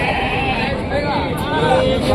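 Goats bleat repeatedly at a busy livestock market, several wavering cries close by over a background of crowd chatter and voices.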